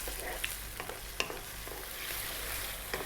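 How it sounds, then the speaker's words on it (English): Tomato vegetable sauce cooking on high heat in a pan, a quiet steady sizzle broken by occasional clicks and scrapes from stirring, heard close up with no voices. "I'll be stirring it all the time"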